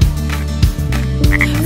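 A cartoonish frog croaks loudly three times in an even rhythm within a children's nursery song, each deep croak dropping in pitch, with no singing over them.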